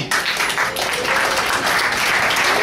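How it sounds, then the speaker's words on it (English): Audience applause at a café open mic night celebrating its one-year anniversary, honoring performer Joe Hafke: dense, steady clapping from a crowd in a small room, sustained and fairly loud throughout. "Cafe D, another round of applause for Joe Hafke."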